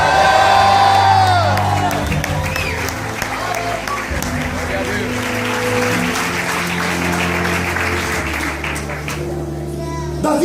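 A Pentecostal church congregation erupts in loud shouting, cheering and applause during a sermon, a dense, sustained crowd roar with whoops and claps filling the room.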